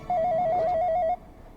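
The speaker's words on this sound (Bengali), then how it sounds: "ফোন আসছে আমার।" A phone ringtone plays a quick warbling electronic trill for about a second, loud and close, then cuts off into quiet room tone.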